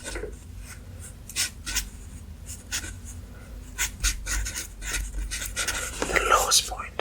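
A Sharpie marker squeaks and scratches across paper in short strokes and quick dabs, close and intimate, with soft whispered talk running under the writing.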